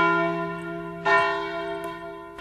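The Savoyarde, the great bronze bell of Sacré-Cœur in Paris cast in 1891, rings with a sustained resonant hum, struck once more mid-way with a bright attack and a fainter strike near the end.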